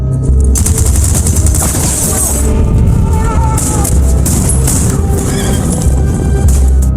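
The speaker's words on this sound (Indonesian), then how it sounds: "mereka berdua malah harus terkena tembakan senjata mesin" Dense bursts of machine gun fire rattle continuously alongside booms and metallic clinks, loud and chaotic, from a battle scene in The Magnificent Seven.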